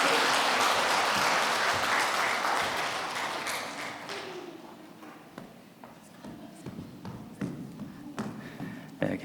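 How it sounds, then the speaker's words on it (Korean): Church congregation applause at a Korean Baptist Sunday worship service, a dense burst of clapping that fades over several seconds into scattered claps, shuffling and murmuring voices. "다 같이 박수로 격려해 주시면 좋겠습니다."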